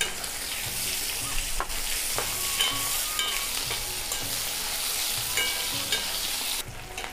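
Chopped onion frying in hot oil with dried chili and bay leaves, a continuous close sizzle with frequent stirring scrapes and light clinks, no talking.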